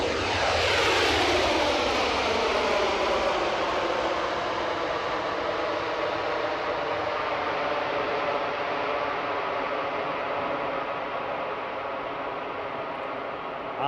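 A jet airliner at Edinburgh Airport roars loudly and close at first, a falling whine gliding down as it passes, then its broad rumble slowly thins and fades on wet ground.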